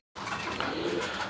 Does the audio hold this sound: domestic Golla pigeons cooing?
yes